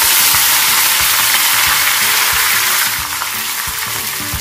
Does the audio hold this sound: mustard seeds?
yes